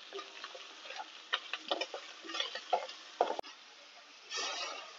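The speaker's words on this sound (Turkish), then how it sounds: "Bir yemek kaşığı kadar domates salçamı ilave edip kavurmaya devam ediyorum." Onions with a spoonful of tomato paste sauté in a pan, giving soft scattered sizzles and spatula scrapes and taps, fairly quiet and close, ending in a brief louder hiss.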